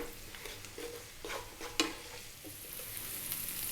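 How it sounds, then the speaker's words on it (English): Spinach frying in a pan over medium heat, a soft continuous sizzle with light stirring scrapes and a sharper clack partway through, fairly quiet and close, with no talking. "we're going to fry the spinach, get a bit of flavour on it"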